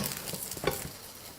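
A steamed layered flatbread fries in hot oil on an electric griddle with a quiet, even sizzle and faint crackle. The frying is heard alone, without any voices.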